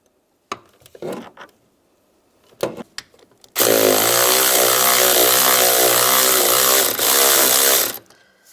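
Power tool work on the front door hinge bolt of a 2007-2013 Chevrolet Silverado 1500 with a 10mm socket, opening with a few short clicks and bursts, then a loud, continuous whirring run of about four seconds that briefly dips before stopping.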